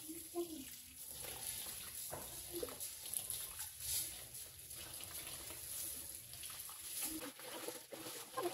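Rice is rinsed in water in a home kitchen, with soft splashing and swishing from a running tap and faint patter. Low speech is audible in the background.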